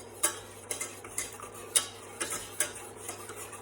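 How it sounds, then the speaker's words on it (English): Milk, butter and flour are stirred in a pan for cheese sauce, a utensil scraping and clinking against the metal in a quick, uneven rhythm of soft strokes, close and fairly quiet, with no talk. "I'm going to get the heat on quickly, and I'm going to get stirring straight away."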